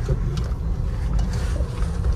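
A Mahindra Scorpio Classic S base model on 26-inch wheels drives along an off-road route, giving a steady, close low rumble with wind noise layered over it and no talking.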